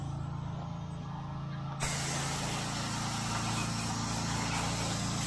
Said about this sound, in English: Alright guys, we're gonna go ahead and rinse this off.